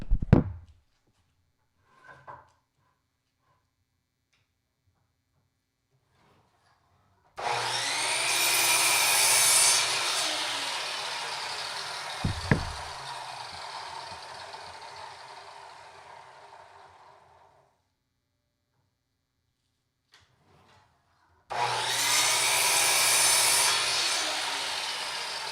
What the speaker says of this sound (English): Hoping I don't cut through any screws here.